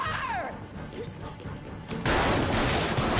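Gunfire in an episode of The Last of Us TV series: shouted voices come first, then a loud, dense burst of shots around the two-second mark that rolls on as sustained crackling noise.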